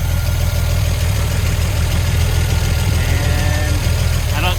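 A 1946 Chevy truck engine idles steadily after a water pump replacement, a loud, even low rumble with a faint ticking rhythm running throughout.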